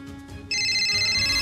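A mobile phone ringtone for an incoming call starts abruptly partway through, a bright repeating electronic melody playing loud and close after a brief quiet room tone.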